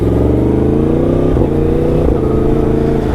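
A Yamaha MT10 Gen 2 motorcycle fitted with an Akrapovic exhaust roars loud and close while riding, its engine note steady with slight pitch shifts as it changes gear.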